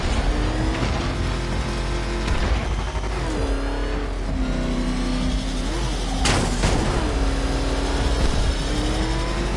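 The Batmobile's engine in the video game Batman: Arkham Knight drones loudly and continuously, rising and falling in pitch as it revs, with bursts of gunfire and crashes cutting through.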